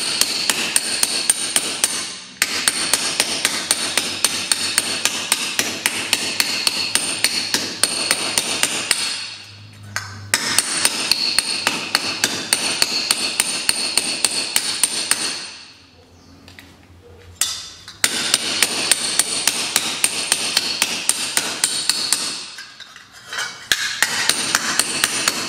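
A small hammer beats the sheet metal of a left front wheel housing on a 1970 Volkswagen Beetle, rapid ringing metallic blows in long steady bursts separated by brief pauses, loud and close.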